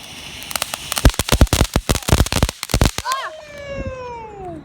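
A backyard family fireworks display sets off a rapid run of sharp, loud bangs and crackles. Several whistling rockets then rise and fade into the distance, and voices can be heard in the background.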